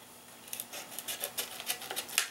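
Scissors snip through material for making RC light buckets, giving a quiet run of about a dozen short, crisp cuts in an uneven rhythm, close up with no talking.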